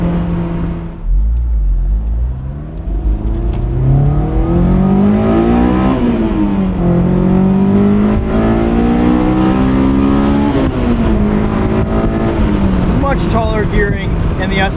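A Honda S2000 AP1 engine revs hard and loud into its VTEC range, pitch climbing and falling through repeated pulls, with a person talking over it.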